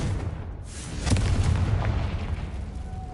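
Confringo fire spell exploding in the video game Hogwarts Legacy: a sustained, rumbling blast with a dense burst of crackle, loud and close, alone with no speech over it.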